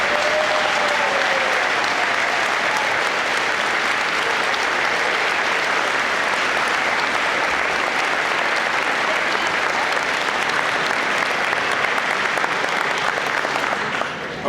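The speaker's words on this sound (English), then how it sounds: "Can you all stand and we'll give them a big round of applause." A large audience at a school's century celebration gives standing volunteers a big round of applause: loud, dense, continuous clapping that holds evenly throughout.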